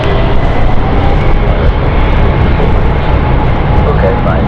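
A passenger jet at London City Airport gives off its distinctive wookie-like engine moan, a loud continuous roar of engine noise that holds steady throughout.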